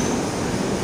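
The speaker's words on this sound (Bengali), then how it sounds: "ট্রেন যাচ্ছে।" A passing train near Malda, a loud continuous rumble with broad rolling noise filling the brief moment, with no voices over it.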